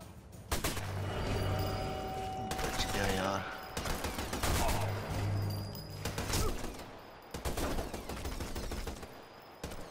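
Gunfire in the Sniper Elite 4 video game, with bursts of loud rapid shots and heavy blasts that come in waves over ten seconds, dense and close, with a faint voice briefly underneath.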